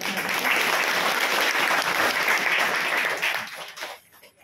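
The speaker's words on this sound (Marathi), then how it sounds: "सर्वजण टाळ्या वाजवू" A church congregation bursts into sustained applause, a dense wash of many hands clapping at full strength that fades out over the final second.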